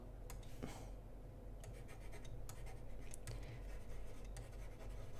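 Pen strokes scratching across a UGEE graphics tablet while drawing, a faint run of short rubbing and tapping scrapes close by, no talking.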